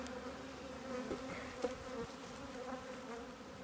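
Honey bees buzz steadily inside an open Dadant hive during a colony split, a dense continuous hum with small shifting swells, close and alone.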